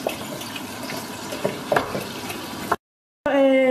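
Meat cooking in a pan for carbonara, a soft steady sizzle with occasional stirring scrapes and small pops, fairly quiet, followed by a brief silence and a short burst of other sound.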